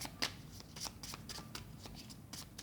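A deck of cards is shuffled during a card reading, with soft, quick riffling and flicking taps repeating close by at low volume.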